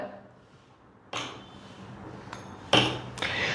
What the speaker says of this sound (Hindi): अब इसी चिमटे को मैं लूंगा और टेबल पे रखूंगा, तो टेबल के अंदर भी वाइब्रेशंस आ जाएंगे।